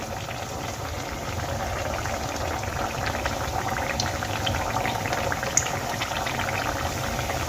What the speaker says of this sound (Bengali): গ্যাসের ফ্লেম লোতে রেখে এই কচুরিগুলো ভেজে নিতে হবে